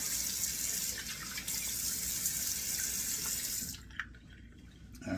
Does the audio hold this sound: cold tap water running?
yes